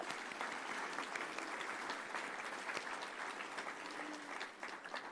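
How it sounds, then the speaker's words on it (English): Gala audience applause, a sustained, dense round of clapping at moderate distance that holds evenly and thins slightly toward the end. "Another round of applause."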